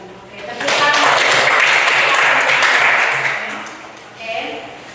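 A classroom audience claps together after a student group's presentation, a dense burst of applause that swells quickly, holds for a couple of seconds, then fades, with a few voices and a short trailing patter near the end.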